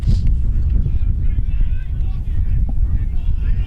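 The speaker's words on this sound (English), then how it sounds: "Nice cold, windy day here in Delaware." Strong wind buffets the microphone outdoors on a cold, windy day at a Virginia Tech versus Michigan State field sports match in Delaware, a steady low rumble running throughout the clip.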